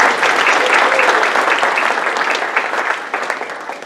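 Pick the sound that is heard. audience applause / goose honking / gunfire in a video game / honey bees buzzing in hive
audience applause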